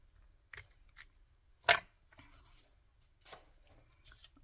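Scissors cut through lace for a handmade lace journal card: a few quiet snips and rustles, one crisp, louder cut in the middle, with no talking.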